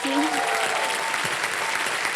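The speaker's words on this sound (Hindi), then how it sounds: "तालियां बज जाए" Brief burst of studio audience clapping on the quiz show Kaun Banega Crorepati, loud and dense, with a short tonal sound at the start layered over it.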